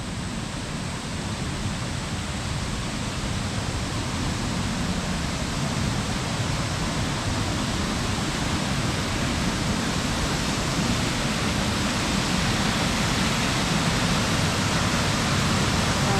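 Steady, full rush of Josephine Creek tumbling over rocks at Babinda Boulders, a continuous roar that holds constant throughout with no voices.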